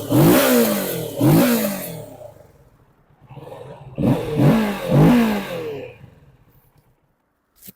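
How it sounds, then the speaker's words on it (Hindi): A Kawasaki Ninja 650 motorcycle with its stock exhaust gives two pairs of sharp, loud throttle revs, each rising and falling quickly. Brief quiet gaps separate them, and the sound ends in silence. "तो ये थी गाइज निंजा 650 की साउंड"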